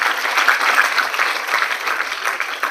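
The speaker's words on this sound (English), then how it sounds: "I think they deserve a round of applause." Dense, steady applause from an audience at a ceremony commissioning and handing over donated school buildings in Lagos State, Nigeria, filling the short stretch without pause and with no voices over it.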